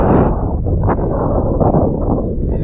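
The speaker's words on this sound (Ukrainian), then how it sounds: "Чим вище, тим більше починає йти вітер." Steady, heavy wind roaring against the microphone high up on a tower, a constant low rumbling buffet with brief gusty swells and no voices.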